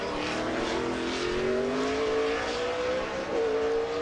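A NASCAR Nextel Cup car in 2007 Toyota/Save Mart 350 qualifying works through turn 11 of a road course, its engine droning and rising in pitch as it accelerates out of the corner, heard from a distance.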